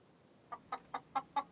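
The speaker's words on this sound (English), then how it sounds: "And some hens." Five short hen clucks in an even rhythm, fairly faint and close together, after a moment of quiet.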